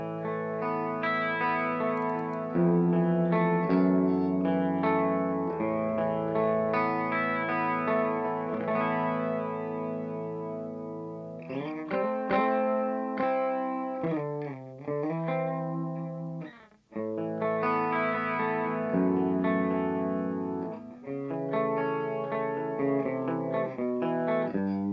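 An electric guitar played through the chorus effect of a Sonicake multi pedal rings out in shimmering, wavering chords and melodic runs, close and continuous for the whole stretch with no talking.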